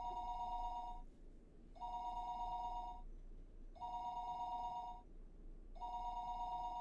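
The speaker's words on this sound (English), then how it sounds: "Her phone would be ringing constantly" A telephone rings in a quiet room, four repeated electronic bursts of about a second each separated by short pauses, clear and steady against a low background hum.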